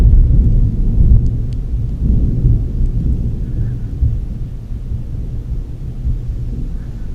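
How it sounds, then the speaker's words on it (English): Deep rolling thunder rumbles steadily through a storm, loud and sustained with a low continuous roar and faint rain texture, no voices over it. "That thunder was like perfect."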